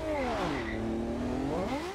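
A Ferrari engine in Forza Horizon 2 during a night race, a loud close revving whine dipping in pitch as it shifts down, then climbing again as it accelerates.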